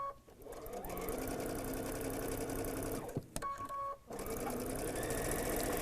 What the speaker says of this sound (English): I'm going to take them over to the machine, and I'm going to start sewing with the seam on top going up